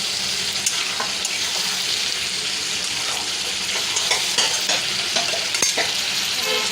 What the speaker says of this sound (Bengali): এখানে যে কাটা রসুন আর কাটা পেঁয়াজটা রেখেছিলাম এটা দিয়ে দেব। ভালো করে নাড়বো, কষাবো।